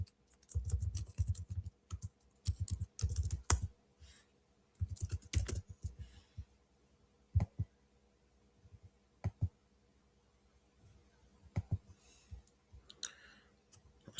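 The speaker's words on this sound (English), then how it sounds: "Shalaki, I'm gonna type in 18 nations." Close-up typing on a computer keyboard, with rapid bursts of clicking keystrokes alternating with pauses and single isolated key taps, fairly quiet and without talk.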